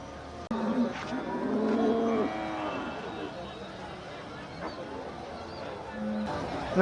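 Cattle at a bullock market low and moo in a long, drawn-out call near the start, with market chatter and crowd noise continuing underneath.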